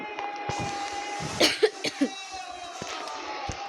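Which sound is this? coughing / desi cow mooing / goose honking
coughing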